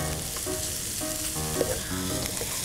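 Garlic sizzling loudly in a hot pan as soy sauce is poured in, a dense continuous frying crackle close up with a faint stir partway through and no talking.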